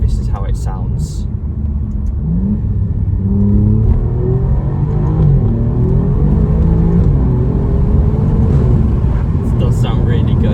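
A 2022 Alfa Romeo Giulia Quadrifoglio with a 2.9 V6 and optional Akrapovic exhaust, engine rising and falling through revs in a loud, close, throaty drone with shifting pitch sweeps, a few knocks early on.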